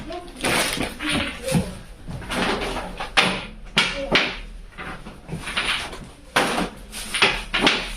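A household freezer door is pulled open and pushed shut, giving close thumps and seal sounds among rustling and handling noises in a home kitchen.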